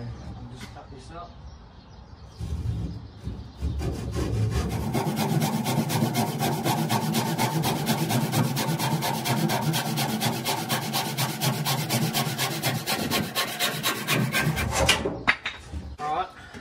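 A piece of wooden trim for a camper trailer conversion is cut with a hand saw: about ten seconds of steady, close, rasping back-and-forth strokes, with quiet handling noises before and after.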